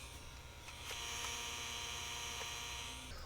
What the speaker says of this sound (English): The speaker makes a humming noise.